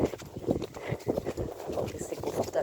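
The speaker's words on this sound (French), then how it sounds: "Tout premier galop pour Sinal monté." Hoofbeats of a Lusitano horse under a rider on its first ridden canter outdoors, a steady rhythmic clip-clop close by, with people talking over it.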